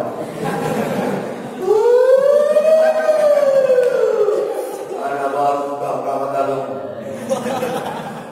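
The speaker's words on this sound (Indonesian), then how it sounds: "Bangun tidur jam 4, mobil ambulan lewat." A passing ambulance's wailing siren rises and falls in a long sweep, loud and close, with other tones and murmuring sounds layered underneath.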